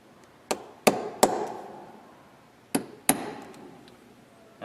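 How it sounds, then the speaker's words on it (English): A center punch struck with a hammer to mark mounting holes on a door for a Segal Jimmyproof deadlock: five sharp, close metallic taps, three in quick succession and then two more after a pause, each ringing out briefly. "use a center punch, and I'm going to make marks where the holes are for the mounting holes"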